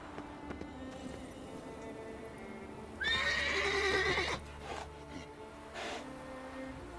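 Roach, Geralt's horse in the video game Witcher 3, lets out a loud whinnying neigh lasting about a second, then a softer snort, over quiet ambient game sound with no talk.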